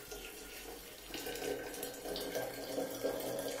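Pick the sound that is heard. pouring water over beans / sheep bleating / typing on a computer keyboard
pouring water over beans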